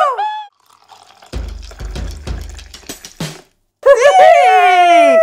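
Puppy giving high, wavering whimpers and yips, one short cry at the start and a longer loud whining bout at the end, with quieter rustling and thumps between.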